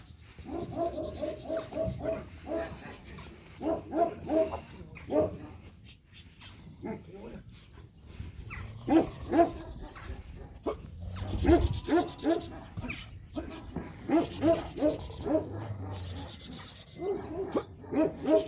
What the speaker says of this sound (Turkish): Ama şu an zayıf olduğu için böyle çok da dik bir köpek Kemal.